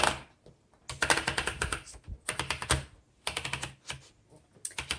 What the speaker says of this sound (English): let's go ahead and load a piece of paper and do a typing demo